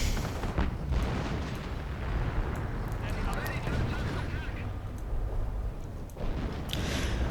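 Artillery shelling in Company of Heroes keeps up a dense, continuous rumble of booms and explosions, loud throughout with a brief dip near the end, while a voice talks over it.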